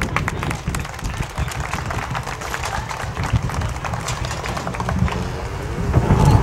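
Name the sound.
applause for young cattle show exhibitors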